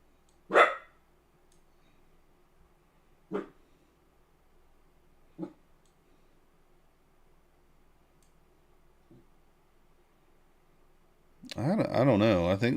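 A pet dog barks in a quiet room: three sharp single barks a few seconds apart, then a fainter fourth, followed by a sudden burst of louder, busier noise at the end.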